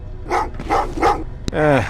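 Dogs bark in the Terminator Resistance video game, three harsh close barks in quick succession followed by a brief whining yelp.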